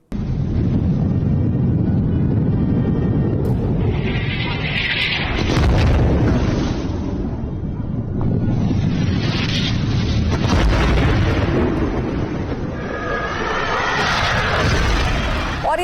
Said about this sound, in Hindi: किस तरीके से जोरदार विस्फोट हुआ है, धमाका हुआ है।